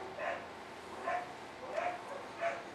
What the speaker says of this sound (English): And the dogs bark for no apparent reason.